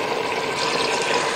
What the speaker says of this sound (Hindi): पानी शामिल करना है